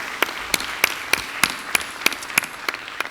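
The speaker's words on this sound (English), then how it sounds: "could everybody please just give a round of applause to the entire team behind this transaction" An audience claps in an even, steady rhythm, with about ten distinct sharp clap bursts spaced evenly across a short stretch, sounding like a small group at a conference event.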